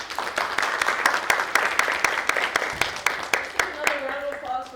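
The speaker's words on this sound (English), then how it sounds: "round of applause for Emily" Audience at a media mentoring talk claps for a guest speaker, a moderately close patter of hands with distinct sharp claps standing out, tapering as a voice begins speaking over the end.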